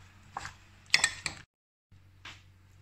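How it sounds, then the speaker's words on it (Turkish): A utensil stirs Korean-style sesame carrot salad dressed with soy sauce in a bowl, giving a few quiet clinks and scraping knocks in short bursts, then a pause and one more soft clatter. "Salatamızı iyice karıştırıyoruz."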